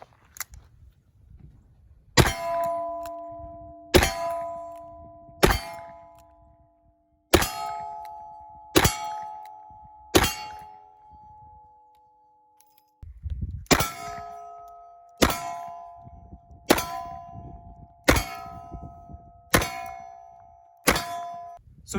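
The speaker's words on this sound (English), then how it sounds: "We'll try 6 of those at some steel up close and see how the recoil is." A Taurus Raging Judge revolver fires .45 Colt cowboy loads at steel targets up close, each sharp shot followed by a ringing metallic clang, about a dozen spaced impacts.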